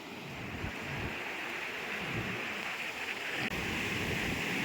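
Sea waves at Kovalam beach at night make a steady, broad roar of surf that continues without a break, loud and close, with wind noise mixed in and no talk.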